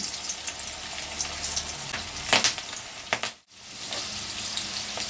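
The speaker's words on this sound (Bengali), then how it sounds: "কড়াইতে দেখো সাদা তেল দেওয়া আছে তেল গরম হয়ে গেছে ভেন্ডিগুলো অল্প অল্প করে ভেজে নেব" Okra pieces frying in hot white oil in a wok, a steady close sizzle with a few sharp crackling bursts and a brief dip in the middle, with no talking.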